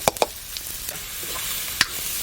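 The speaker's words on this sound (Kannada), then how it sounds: "ಈಗ ಈ ಎಣ್ಣೆಗೆ ಒಂದು ಈರುಳ್ಳಿ ಹಾಕುವ," Chopped onion sizzles in hot coconut oil in a pan, a steady close frying hiss broken by a few sharp clinks and scrapes from stirring, with no talking.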